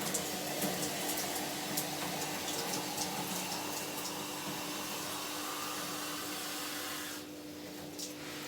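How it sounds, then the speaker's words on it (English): Running water pours steadily into a shaker bottle from a tap, a continuous hissing stream with a faint hum beneath it that briefly changes near the end. "And then I fill that up with water."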